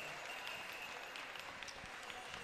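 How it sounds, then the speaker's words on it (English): Applause at the 2017 Louis Riel School Division graduation powwow: a steady wash of many hands clapping, faint and distant throughout, with no voices over it. "Let's give him a nice big round of applause."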